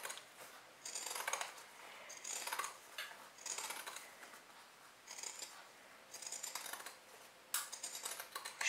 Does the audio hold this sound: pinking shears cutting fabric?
yes